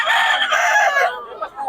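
A rooster at a poultry sale in Bocaue crows once, loud and close, a single drawn-out call that fades at the end.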